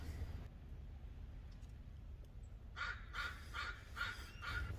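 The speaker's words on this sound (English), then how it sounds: "There's a lot of birds. So that's what woke me up." Many birds call at a campground in Washington State in the morning. A quiet stretch gives way to a run of five or six harsh, evenly spaced calls over low background rumble.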